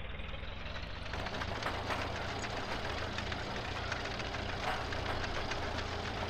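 Old tractor engine running in a farming video game with a trailer noise pack mod, a low steady idling knock with rattling vibration, continuous and fairly close, no talk.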